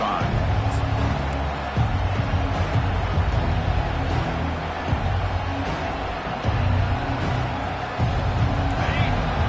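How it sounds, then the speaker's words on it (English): A dense, distant crowd roar fills a large college football stadium at Iowa, steady and rumbling, with an announcer-style voice talking over it. "Listen to the crowd energy here in the early going."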